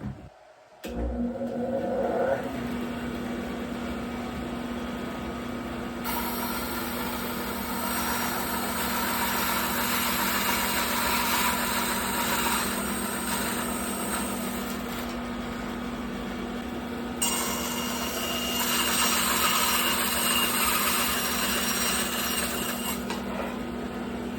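A Bauer 14-inch band saw runs with a steady motor hum while its blade cuts through wood fed against a miter gauge, the cutting swelling into a louder, rougher whine in stretches before easing off.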